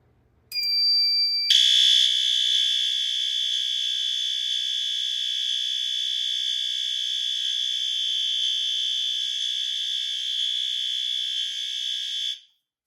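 A piercing, steady fire alarm tone from a System Sensor L-series chime strobe blares at full volume for about eleven seconds after a brief higher beep, then cuts off abruptly.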